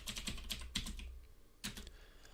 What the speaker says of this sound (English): So we can actually check this out by typing in a SQL command.